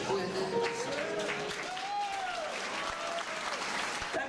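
An audience claps steadily after a song at an outdoor concert in Vienna, the applause filling the space while a voice speaks briefly over it.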